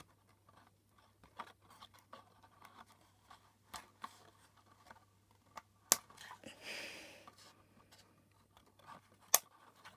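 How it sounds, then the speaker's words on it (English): Scissors snipping through Chelsea and Friends doll (Kira) packaging, a series of soft crisp clicks and scratchy cuts spread across the stretch, with one longer rustling cut and a few sharper snaps, close and quiet. "Bring my scissors"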